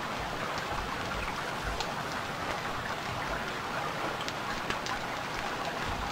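Steady, dense rain pouring in the survival game Stranded Deep, a constant loud hiss of drops hitting surfaces with occasional sharper splats, heard alone with no talk.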